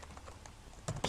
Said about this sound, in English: type in the search area,